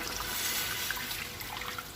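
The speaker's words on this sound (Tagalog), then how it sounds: "Pwede na natin siyang lagyan ng tubig" Water pouring steadily into a pot, a continuous splashing hiss at moderate volume with no voices.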